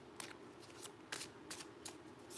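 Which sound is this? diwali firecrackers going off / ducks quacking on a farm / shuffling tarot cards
shuffling tarot cards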